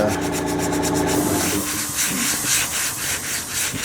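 Sandpaper of 100 grit worked by hand over the metal body of a 1929 Chrysler, a loud, close, continuous rasping rub in steady back-and-forth strokes.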